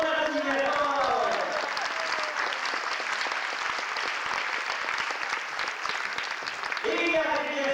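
A children's show audience claps loudly for a clown, with sustained applause filling the room for several seconds and a voice speaking over it at the start and again at the end.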